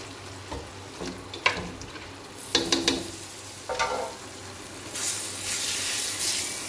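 Chicken frying in a pan for a paratha roll, with soft sizzling and a few louder stirring clatters, rising to a steady brighter sizzle toward the end; no talking.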